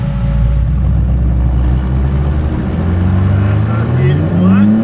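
A Ford AU Falcon engine revs hard under full throttle, loud and close from inside the car, its pitch climbing steadily. A voice talks over the engine.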